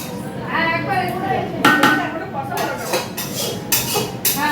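A wok (kadai) is handled in a home kitchen, its metal clanking and clinking in several sharp knocks and scrapes, with a voice faintly audible in the background.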